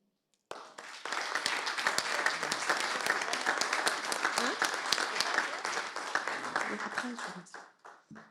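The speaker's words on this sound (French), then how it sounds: "je propose que nous votions par acclamation" Applause sweeps through a municipal council meeting in Troinex as members approve a vote by acclamation, a dense burst of many hands clapping that holds steady for several seconds and then fades away.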